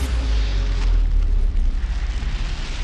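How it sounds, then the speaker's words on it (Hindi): A Russian missile strike on the Lviv oil depot produces a loud, sustained rumbling blast, deep and roaring throughout with no voices. "मिसाइल गिरते ही तेल डिपो में धमाके के साथ आग लग गई।"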